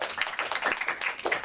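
An audience at an academic lecture claps for a staff member, a dense, steady burst of close hand claps lasting a second or two with no voices.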